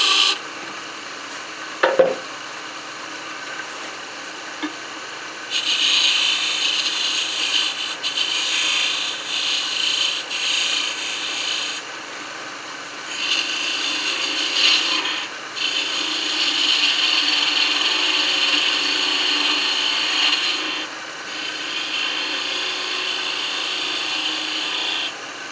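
Half-inch skew chisel held point down cutting a spinning wooden lighthouse ornament on a lathe: a steady, close hissing scrape that comes in long passes with short pauses between, over a low motor hum.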